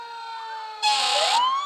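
A fire truck siren at a homecoming parade wails loud and near, its tone sweeping upward, while a blaring horn blast cuts in partway through.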